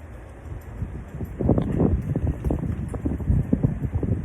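Gusty wind buffets an outdoor microphone, a low rumbling roar that swells after the first second and stays loud and uneven throughout, with no voices.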